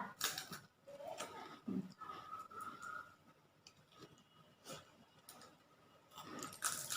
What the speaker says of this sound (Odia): ତନିଷା ବର୍ତ୍ତମାନ ବେଶୀ ଭାତ ଖାଉନି, ଖାଲି ଆମ୍ବ ଖାଇବାରେ ବ୍ୟସ୍ତ